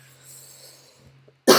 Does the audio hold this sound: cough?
yes